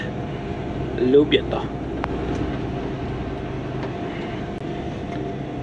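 A train rolls on rails through the Eurotunnel area, a steady low rumble and hum with a faint thump, while a person speaks briefly over it.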